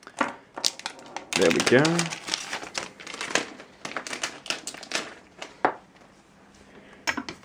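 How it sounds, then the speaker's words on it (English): Plastic wrap being torn and crinkled off an aluminium Apple USB SuperDrive, a few close crackling rips and rustles, with someone speaking briefly over it. "Go ahead and turn around the back and tear off all the plastic."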